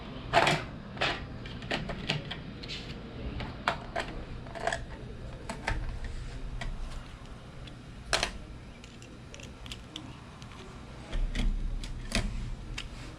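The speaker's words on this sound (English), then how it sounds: "these are little micro screws, so I have to use a smaller screwdriver on them." A small screwdriver works micro screws out of a Tesa magnetic card reader, giving sharp metallic clicks and ticks at irregular intervals over a quiet room background.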